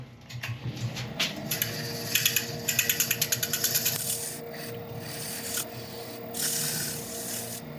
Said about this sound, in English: give it a little going over with a bit of 400 grit sanding paper